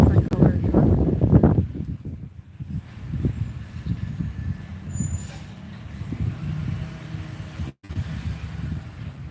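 Garbage-style yard waste truck with air brakes working outside a house, its engine rumble and a sharp brake hiss audible, fairly close, while a voice talks over it.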